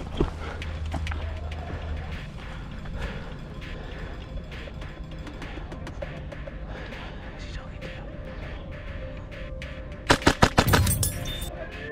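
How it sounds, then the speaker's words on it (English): Airsoft gunfire at an abandoned Russian military base: a tight cluster of sharp, close pops bursts out near the end over a steady outdoor rumble and faint background chatter. "I'm hearing shots from all directions and super close"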